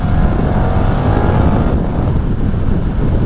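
A 2021 KTM 1290 Super Duke R being ridden on the road in street mode gives a loud, steady engine drone mixed with heavy wind rush, continuous and close.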